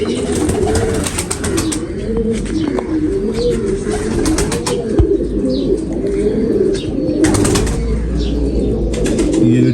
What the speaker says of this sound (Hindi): ये डब वाला कबूतर है।